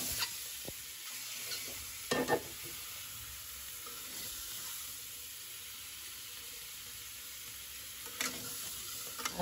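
Turmeric and salt frying in hot oil give a steady broadband sizzle with occasional scraping stirs, close and alone, no voices.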